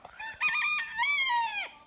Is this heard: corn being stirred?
no